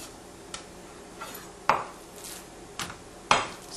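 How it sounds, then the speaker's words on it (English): Knife cuts trimming excess fat off a flank steak on a board, a few sharp separate taps and scrapes in quiet, spaced about a second apart. "Trim off any excess fat."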